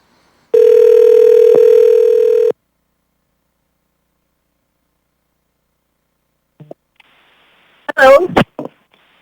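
A steady telephone dial tone sounds for about two seconds on a call line for a city assembly meeting, followed by silence, then brief clicks and a short burst of speech.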